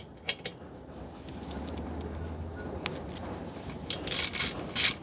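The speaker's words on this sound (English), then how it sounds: "Remove this bolt to free up the brake line." Ratchet loosening the fender bolt on a Honda Rebel 1100 motorcycle, a low mechanical clicking and creaking through the middle, then a few sharper metallic clicks and rattles near the end.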